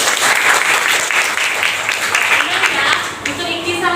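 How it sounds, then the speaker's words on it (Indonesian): Students in a vocational high school classroom clap together, a loud, brisk burst of applause lasting a few seconds, with a voice speaking at the end. "Iya, tepuk tangan sedikit."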